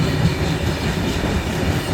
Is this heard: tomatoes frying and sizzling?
no